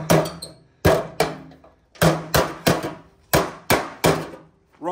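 Metal gutter downspout struck by an oversized hammer, giving about ten sharp, loud clanging blows in an uneven rhythm, each ringing briefly before the next, close by with no talk.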